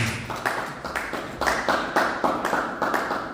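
A church congregation claps in a steady rhythm, repeated crisp hand claps close and moderately loud, with faint voices mixed underneath.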